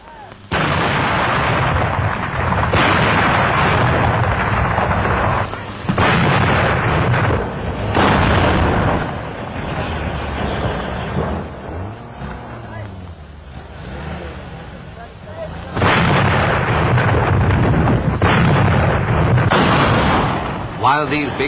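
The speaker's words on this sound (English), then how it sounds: "While these big guns sent shell after shell into Walcheren" Heavy artillery guns of the 1944 WWII Battle of Walcheren shell the island in repeated, sustained booming salvos, loud and close, with rumbling blasts that surge, ease off midway, then return at full force.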